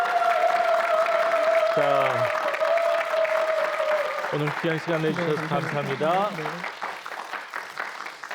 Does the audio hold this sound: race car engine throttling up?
no